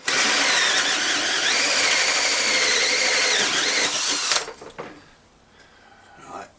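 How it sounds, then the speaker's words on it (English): A power drill with a hole cutter whines loudly and steadily as it bores through wet wood, then winds down and stops, leaving faint handling noises. "You've gone to your piece of wood and you drill a hole"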